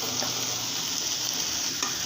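Fenugreek greens being stir-fried with chopped coriander crackle in a steady, dense sizzle, with faint scraping stirs over the continuous frying hiss.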